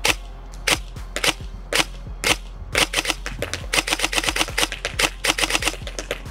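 G&G SSG-1 airsoft rifle firing semi-auto at a target, a rapid series of sharp close clacking shots that starts spaced out and speeds into a fast, irregular string, with no talk.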